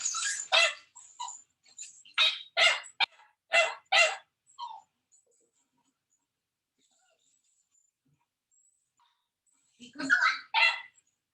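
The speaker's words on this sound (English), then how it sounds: "So this puppy is distressed." A puppy barks and yips in rapid bursts, several high-pitched yelps close together, then a long silence before another short flurry of barks.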